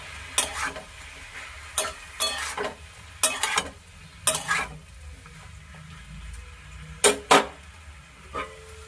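Bottle gourd and shrimp are stirred in a pan, with short scraping clatters of the spoon against the pan coming in irregular bursts, close and fairly loud over a soft sizzle.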